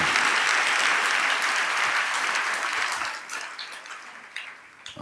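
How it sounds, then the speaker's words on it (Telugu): A church congregation claps together during a Sunday sermon, a dense burst of applause that thins and fades toward the end. "చప్పట్లు కొట్టే ఆనందం"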